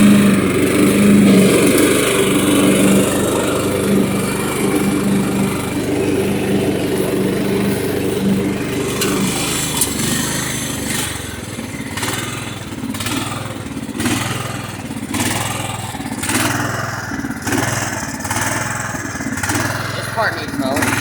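A Craftsman lawn tractor mows grass with a steady, close engine drone whose pitch pulses and shifts as it maneuvers, and the engine note changes partway through, with talking heard over it.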